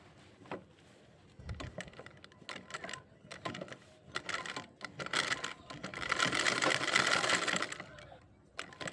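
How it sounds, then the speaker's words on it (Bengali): An electric sewing machine stitches around the fabric border of a doormat made from old clothes, running in short, irregular bursts that build into a longer, faster run near the end. "তো তার জন্য এইভাবে ধার থেকে এখন আমি মেশিনে সেলাই করে নেব।"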